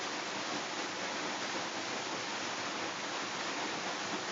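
Steady, dense rushing of a waterfall, loud and continuous with no pauses or voices.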